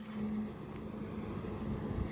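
A truck rolls past on the Nagar-Solapur highway, a low steady engine and tyre rumble at moderate distance for about two seconds, with no talk over it.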